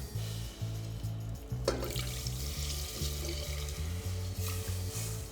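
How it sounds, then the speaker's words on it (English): Gravy made with stock simmering in a pan while a whisk sweeps through it in a steady back-and-forth rhythm, over a constant bubbling sizzle, close and moderately loud. "Just whisk it out again"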